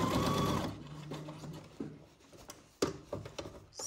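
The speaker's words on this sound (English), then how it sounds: "we are stitching 1 centimeter from the edge" A sewing machine stitches a seam one centimetre from the fabric edge, a brief whirring run at the start followed by quieter handling noises and scattered clicks.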